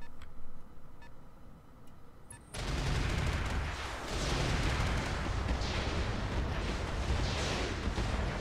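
Mech weapons firing in the Roguepoint video game: a loud, sustained roaring barrage of explosive fire that bursts in suddenly after a quieter stretch and keeps rumbling continuously to the end.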